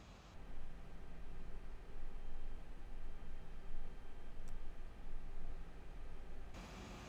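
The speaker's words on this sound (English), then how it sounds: "Okay, flaps are coming up." Steady broadband rush of an A320 cabin or cockpit in the X-Plane 11 flight simulator as the flaps retract after departure from Pulkovo, a constant airflow and engine hiss with a faint low hum, no talking.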